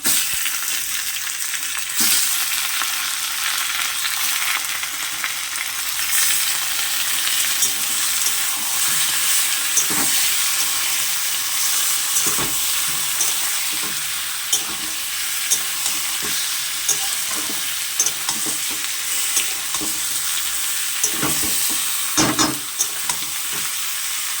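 Chicken meat with potatoes and onions frying and being stirred in a pan for a braised chicken dish, a loud, constant sizzle broken by scraping stirs, with no talking.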